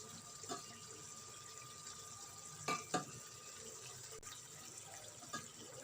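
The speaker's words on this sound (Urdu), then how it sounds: "اب ہم اس میں پانی شامل کریں گے۔" Water runs quietly into a cooking pot in a home kitchen as a soft, steady trickle, with a few faint clinks along the way and no voices.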